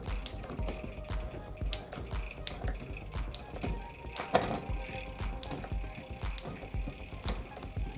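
A bicycle's rear derailleur shifts up the cassette with close, quiet ticking and clicking of the freewheel and gears. A sharper clunk of a gear change sounds midway. The ratcheting is steady, with no talking.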